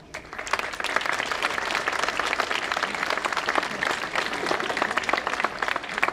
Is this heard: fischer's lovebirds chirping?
no